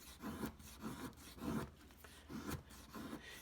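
A knife shaving thin curls from a wooden stick to make a feather stick, giving about six quiet, rhythmic rasping strokes close up, with no talking.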